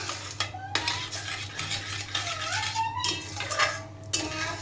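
A spoon stirs and scrapes blended carrot halwa in a pan over a low flame, giving repeated scraping and clinking strokes with a faint sizzle underneath, close and moderately quiet, with no talk.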